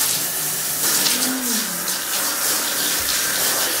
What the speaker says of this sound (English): I'm gonna give Tommy a bath